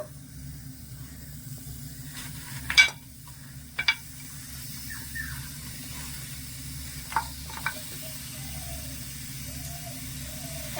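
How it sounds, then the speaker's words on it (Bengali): Grated coconut and jaggery cooking in a kadai make a steady low sizzle throughout, broken by a few sharp scraping clicks of stirring, close and unhurried with no talking. "এখানে নিয়েছি কিছুটা নারকেল কোড়া আর নিয়েছি এখানে কিছুটা গুড় এবারে কড়াই দিয়ে দেবো"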